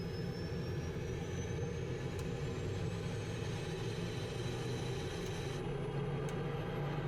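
The twin jet engines of a T-45 Goshawk spool up in Microsoft Flight Simulator 2020, giving a steady roaring whine with a thin tone that slowly rises in pitch. The sound holds at a moderate level throughout.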